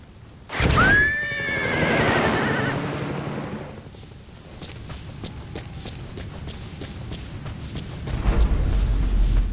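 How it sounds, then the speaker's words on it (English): A horse whinnies loudly up close in Metal Gear Solid V: The Phantom Pain, a shrill rising neigh that trails off, followed by low rumbling ambience and soft thumps. "we'll go ahead and dismiss our horse"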